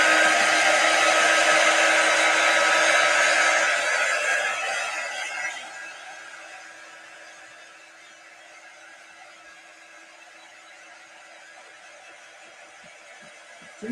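A hair dryer blows steadily and loudly over a freshly painted outdoor tabletop citronella torch, then its roar drops and thins to a quieter, lower hum for the rest of the stretch, with no one talking.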